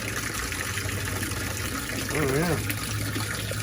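A small garden-pond waterfall splashes and trickles steadily at close range, with a voice speaking briefly over the running water.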